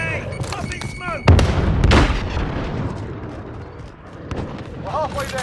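A grenade goes off in a shooter video game as a loud, sudden boom followed by a long rumbling tail, amid game sounds and shouted combat callouts.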